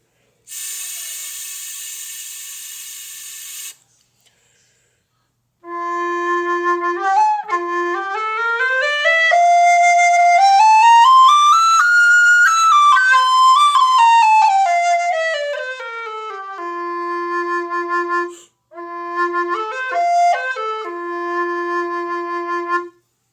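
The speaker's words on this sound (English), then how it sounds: "very nice whistle." A Burke whistle plays a long melodic line of pure, resonant tones rich in harmonics, gliding up to a high peak and back down, with a brief pause and a final short phrase; a burst of hissy noise opens the passage.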